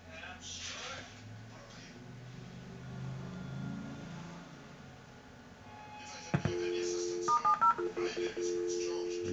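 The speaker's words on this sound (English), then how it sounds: "So I'm going to dial up." A dial-up modem on a Windows XP home dial-up server setup dials out, a quick run of distinct DTMF tone beeps near the end following a stretch of quieter background noise and voice.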